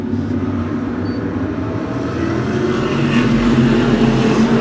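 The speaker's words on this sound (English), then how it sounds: "Thundering off into turn 1" A pack of short track race cars thunders off into turn one, engines blending into a loud, sustained roar that swells slightly as they pull away, with no voices.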